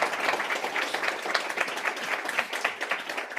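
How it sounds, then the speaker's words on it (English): An audience applauds panelists at a panel discussion, a full round of steady clapping at moderate distance, rippling evenly for the whole stretch without speech on top. "if we can give a big round of applause for our wonderful panelists today"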